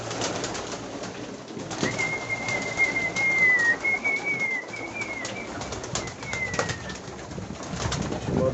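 Pigeons in a breeder's loft coo softly and continuously close by, with a faint thin whistle drifting over the cooing and a steady background hum.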